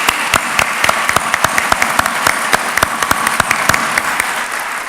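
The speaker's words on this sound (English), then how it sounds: "I think that deserves at least another round of applause" A crowd at a fall college convocation gives a round of applause welcoming new members of an alumni society: loud, close, dense clapping with sharp individual claps standing out, sustained throughout.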